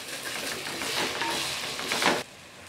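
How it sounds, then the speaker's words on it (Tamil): Mango thokku mixture of fresh raw mango sautéing in a pan while being stirred: a steady, fairly quiet sizzle with soft scraping that cuts off abruptly near the end. "ஒரு நிமிஷம் நல்லா வதக்கிக்கலாம்."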